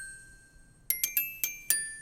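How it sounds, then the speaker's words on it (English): A small glockenspiel plays a short bright melody line for a kids' show theme, five or six ringing struck notes after a near-silent start, each decaying quickly, isolated with no other instruments. "We also add this tiny glock to the melody, which just helps give it some more brightness"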